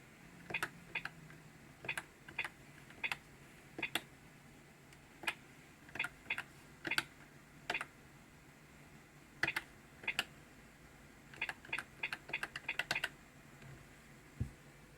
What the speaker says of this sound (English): So here I am typing them as fast as I can.